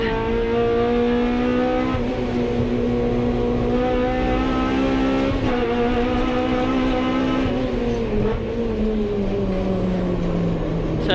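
Hot hatch race cars at Rockingham, among them a Ford Fiesta, drone loudly and steadily at full throttle, with rising and shifting engine notes overlapping throughout as they accelerate around the track.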